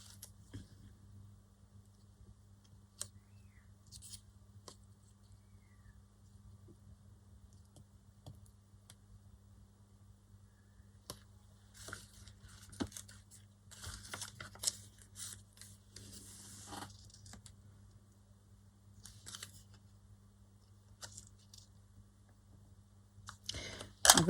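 Scissors snip paper pieces for a collage in short, quiet bursts of crisp cutting and rustling against a low steady hum, close and faint, with long near-silent gaps between cuts.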